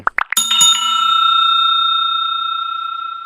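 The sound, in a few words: notification bell sound effect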